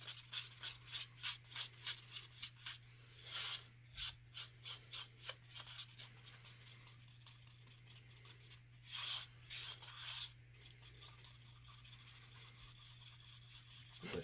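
A stick stirs a Jesmonite mix, making quiet, rhythmic scraping strokes in a quick regular run, then a few louder isolated scrapes after a lull against faint background hum.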